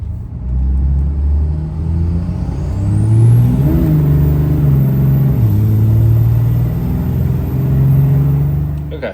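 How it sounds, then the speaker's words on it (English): A diesel pickup truck, a 3rd-generation Cummins, revs up and accelerates toward 70 mph on a straightaway with a deep, steady rumble, pitch climbing through shifts, loud and close throughout. "we're gonna go ahead and start the truck up here on the straightaway"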